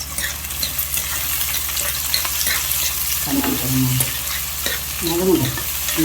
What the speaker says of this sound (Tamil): நல்லா வெங்காயம் நல்லா வதங்கி வரட்டும், அது வரைக்கும் நல்லா வதங்கணும்